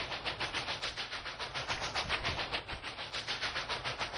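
The Union Pacific 844 steam locomotive in Roblox gives a loud, rapid and steady chug, with evenly spaced exhaust beats pounding continuously at close range and no voices.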